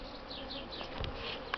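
Steady low buzzing of many honeybees close by a hive in spring, a continuous drone with occasional brief louder passes.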